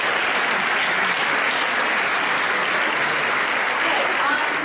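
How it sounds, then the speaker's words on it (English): A year-end school staff celebration audience applauds steadily and loudly throughout, dense continuous clapping with a faint murmur of voices underneath. "Give yourself a round of applause."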